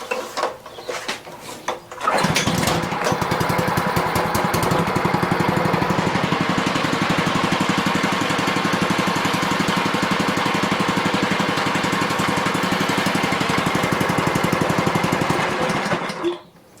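A Dewalt pressure washer's small engine is pulled to start after sitting unused for years, with no air filter and a cold motor. After a couple of seconds of rattling it catches and runs loud and rough with a fast knocking rhythm for about fourteen seconds, then cuts out.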